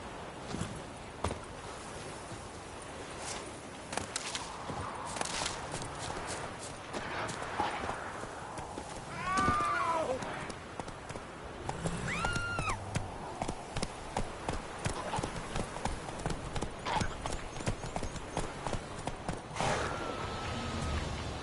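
Hooves of a horse in the video game Witcher 3 clip-clop at a steady walking-to-running rhythm, fairly close, mixed with game ambience, a couple of brief whistle-like calls and a short voice.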